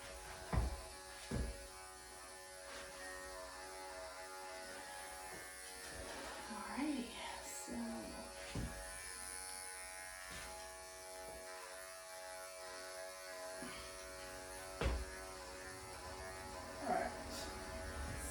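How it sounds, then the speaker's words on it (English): Electric clippers shaving a poodle-doodle dog's coat give a constant low buzz with occasional clicks and bumps, while a person talks quietly over the hum. "I'm gonna shave everything off inside"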